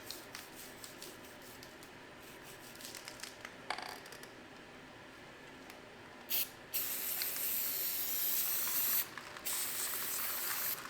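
Steady hissing spray with bursts of louder, harsher jetting, close up and continuous, as spray cleaner is blasted against an engine to wash off heavy grease.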